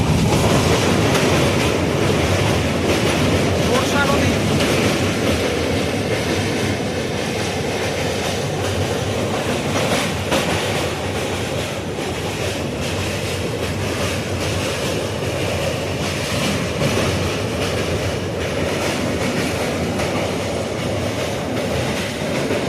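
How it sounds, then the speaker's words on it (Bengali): The 15777 NJP–APDJ Tourist Express runs on rails after leaving Hasimara station, a loud, continuous close-up rumble with rhythmic clickety-clack of wheels over rail joints and faint squeals. No voices. "নিজের নির্দিষ্ট সময় থেকে প্রায় আধা ঘন্টা দেরিতে চলছে আমাদের ট্রেন"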